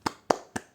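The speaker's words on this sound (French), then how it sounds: "c'est comme ça qu'on applaudit" Three sharp, close hand claps at an even, unhurried pace, each standing alone against near silence.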